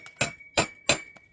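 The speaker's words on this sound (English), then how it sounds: "tap it with the hammer," Three sharp metallic taps of a hammer on a stuck ACO drain grate, evenly spaced and ringing briefly, followed by a lighter fourth tick.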